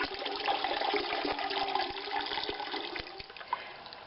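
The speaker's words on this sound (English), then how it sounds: "And then I dump the kettle water in." Kettle water dumped into an old crab pot used as a large dye pot, a steady rushing pour with splashing and sloshing in a hard metal vessel, tapering off near the end.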